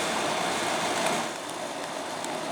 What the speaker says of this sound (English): there's some light rain going on right now.